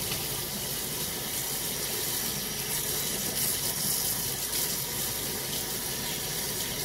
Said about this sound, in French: je mets de l'eau. Hop, je rince ma pompe.